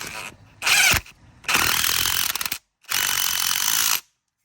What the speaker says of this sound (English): Need to tighten these 2 bolts.